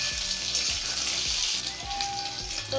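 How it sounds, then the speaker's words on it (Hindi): Onions frying in a pan for a sweet-and-sour raw tomato curry, giving a steady, close sizzle with no talking. "तो प्याज हमारा अच्छे से लाल फ्राई हो चुका है।"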